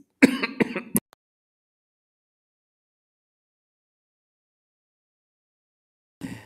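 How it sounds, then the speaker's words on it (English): A short burst of throat clearing and coughing up close, followed by silence, then another brief rough cough at the very end. "I'll give a good cough behind the scenes."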